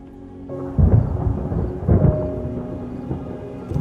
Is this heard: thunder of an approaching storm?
yes